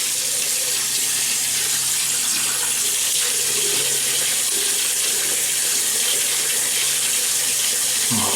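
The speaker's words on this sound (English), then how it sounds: "so let me wet the face." Tap water runs steadily from a faucet into a sink as a face is wetted before shaving, a continuous close splashing stream with a brief knock near the end.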